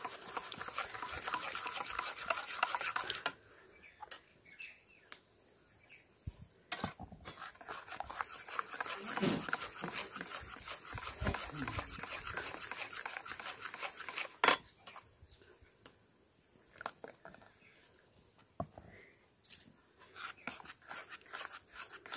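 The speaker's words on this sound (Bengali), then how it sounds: "অল্প অল্প দিতে থাকবো আর নাড়তে থাকবো।" A hot pan is stirred while something is added little by little. Quiet scraping and sizzling come in separate bursts with near-silent gaps between them.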